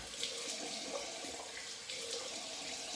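Cold tap water running steadily from a faucet to rinse alum off after a shave, a constant close splashing stream with no pauses.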